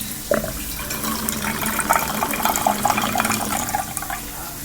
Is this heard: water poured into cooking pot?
yes